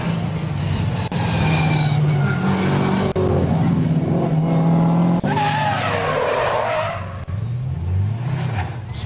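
Drift car engine on the Calmont touge course, revving hard and loud with rising and falling pitch, tires squealing and skidding through the corners, with faint commentary in the background.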